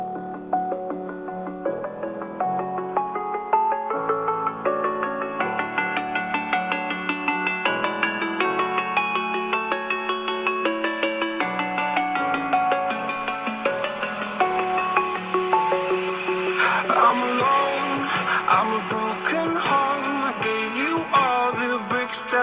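Music played back through the built-in speakers of a 2022 ASUS ROG Zephyrus G14 laptop at 80% volume, steady and full with layered tones throughout, brightening toward the end, no talking.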